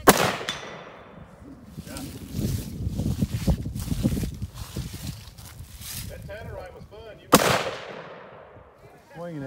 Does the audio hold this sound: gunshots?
yes